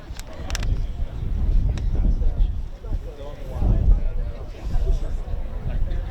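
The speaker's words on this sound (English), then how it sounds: "the wind is blowing pretty good" Gusty wind buffets the microphone at a paratrooper demonstration during the 2024 World War II Weekend, a loud, low, uneven rumble that rises and falls, with faint crowd noise underneath.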